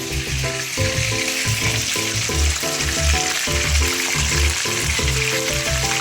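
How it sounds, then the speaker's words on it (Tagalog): Fish frying in hot oil gives a loud, steady sizzle with crackling pops, alongside rhythmic clanking of utensils. "Prito pa kaming isda."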